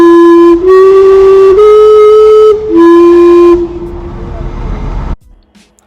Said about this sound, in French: aller voir l'horloge sifflante